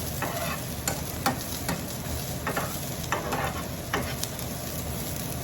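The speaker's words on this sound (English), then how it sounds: "Then I'm going to stir a little bit" Spices frying in a pan on the stove while being stirred: a soft continuous sizzle broken by irregular scraping and clicking strokes, close and fairly quiet.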